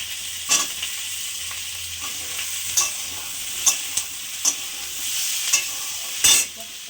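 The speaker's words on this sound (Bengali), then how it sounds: "এবার সিদ্ধ করে রাখা আলুগুলো একটু ক্যাপসিকাম পেঁয়াজের সাথে ভেজে নেব।" Boiled potatoes fry with capsicum and onion in a pan: a steady close sizzle broken by several sharp scraping stirs spaced a second or so apart, with a louder clatter near the end.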